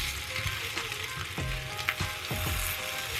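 Rice fries in a pan with vegetables, giving a strong close sizzle with crackling, while a utensil scrapes and stirs it in a few distinct strokes; no voices.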